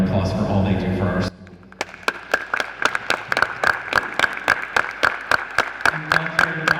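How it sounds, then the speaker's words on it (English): Audience at a school board meeting clapping in a sustained round of applause, individual claps sharp and close, following a short burst of speech at the start. "if you could join me in giving them a big round of applause for all they do for our school"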